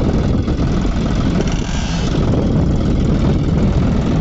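A John Deere 5405 4WD tractor carrying front ballast weights pulls a Lemken three-bottom reversible plough in B2 gear, its engine a loud, steady, close drone throughout with no break.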